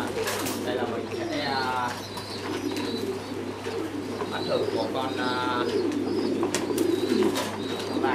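Large parent pigeons coo repeatedly at a pigeon farm in Dak Lak, soft rolling calls near the microphone over a steady hum, with a person briefly speaking.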